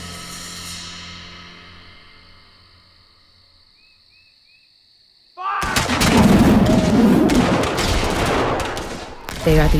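A Civil War battle opens near Shiloh Church with artillery and gunfire, a dense, loud burst of booms and crackling shots breaking in suddenly after a quiet stretch of dawn insects and frogs.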